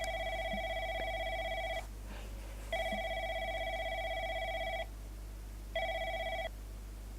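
A telephone rings in the video game Replica, three long electronic ring bursts separated by short pauses, clear and steady over a low constant hum.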